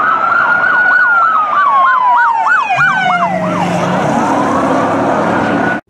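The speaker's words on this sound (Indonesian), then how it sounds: "Wih, mobil polisi." A loud, close electronic toy police car siren yelps in a fast rising-and-falling wail, then changes to a steadier tone, with no voices.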